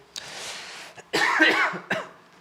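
A few harsh coughs close by during a classroom math lesson, one short burst followed by a longer, louder rasping cough and a final brief one.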